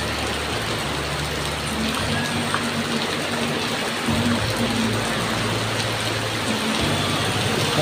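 Heavy rain and strong wind make a constant dense hiss and roar, with a low idling engine rumble underneath and a few faint thumps.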